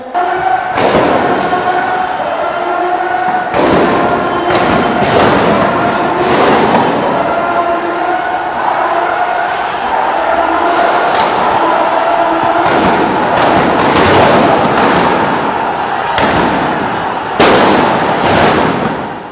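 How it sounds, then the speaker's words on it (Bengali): Gunshots and sound grenades go off during street clashes between police and protesting students in Mirpur. Repeated sharp loud bangs come at irregular intervals over a constant roaring crowd and street noise. "মুহুর্মুহু গুলির শব্দে কেঁপে ওঠে পুরো মিরপুর এলাকা"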